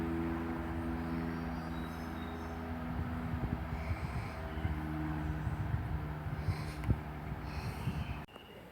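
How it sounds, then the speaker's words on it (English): A passenger train from London Marylebone pulls into Gerrards Cross station with a low, steady rumble and humming engine drone, wheel clatter building as it nears, and a brief squeal near the end. "coming in now is a service from London Marylebone, and this service terminates here."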